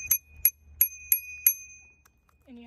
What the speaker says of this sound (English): You have a bell.